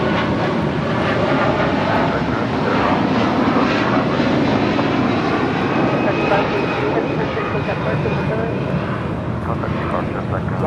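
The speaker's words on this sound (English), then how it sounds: "Wamos Air operating for Avianca 523, departing to San Salvador on the A330-200." An Airbus A330-200 jet operated by Wamos Air for Avianca departs Los Angeles International Airport, a steady, loud broadband engine roar sustained throughout with faint voices beneath.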